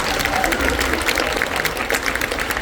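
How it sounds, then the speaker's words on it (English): Steady applause from a concert audience for a high school marching band, a dense wash of many hands clapping continuously at moderate loudness, with faint crowd murmur underneath. "So let's give them a round of applause."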